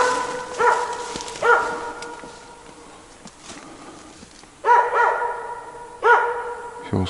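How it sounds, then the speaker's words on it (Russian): Irregular dog barks come in clusters, a couple early, a pause, then several more in quick succession, moderately loud and close. "Опять неровно лает."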